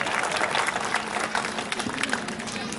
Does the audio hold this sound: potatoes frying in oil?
no